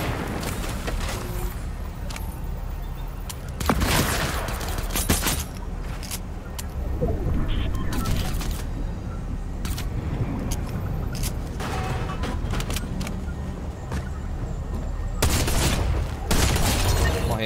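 Heavy gunfire and explosions rattle through a Fortnite match, with dense overlapping bursts and booms that go on loud and almost without pause, and some scattered clicks and clatter among them.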